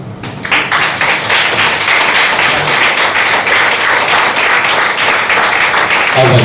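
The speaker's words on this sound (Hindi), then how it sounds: "एक बार ताली बजा के दिखाइए।" An audience claps hands together in a hall, a dense, steady burst of applause that keeps going loudly and evenly without voices on top.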